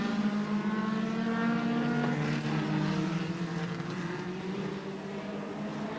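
Race cars, a Nissan Sunny and a Ford Escort, battling on a circuit at Bay Park in New Zealand in 1984, with steady engine drone whose pitch slowly glides and shifts as the cars pass, loud and continuous.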